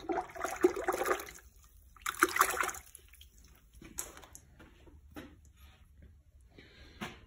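Running water rinses soap suds off a stone-washed piece, splashing and trickling in a few bursts with quieter dribbles and drips between them, close by; no one talks.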